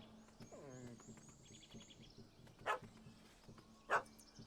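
A dog in The Witcher 3 barks twice, sharp and fairly close, about a second apart, over steady game ambience with brief bird-like chirps earlier.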